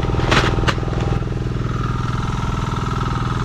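A motorcycle engine idles steadily and close by on a farm where eggplant is grown, with a brief rev near the start, then a continuous low, even chugging with no talk.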